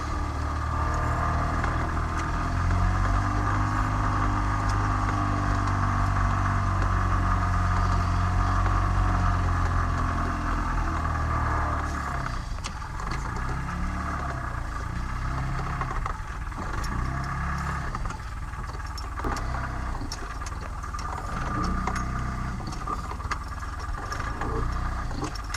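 A Casalini Kerry microcar's small engine running as it is parked, a continuous close mechanical drone that is heavy and steady at first, then thinner and more uneven as it moves.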